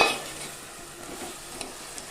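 Drumstick pieces frying in a little oil for a Nellore-style curry give a soft, continuous sizzle, with a stirring scrape at the start and a couple of light clinks of a utensil against the pan.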